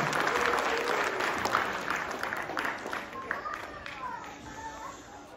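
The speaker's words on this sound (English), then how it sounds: "let's give the Eagle Peak students another round of applause" Audience applause at a school district Students of the Month ceremony, honoring Eagle Peak students; steady, dense clapping from a seated crowd that slowly tapers, with murmuring voices underneath.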